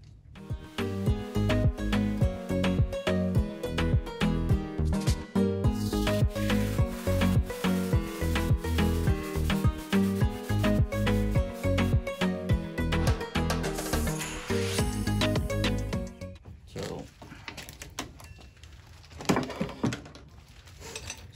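A scroll saw cuts a wooden basket with a steady, rapid buzzing rasp that holds for about sixteen seconds, then stops into quieter handling noises, close and without speech.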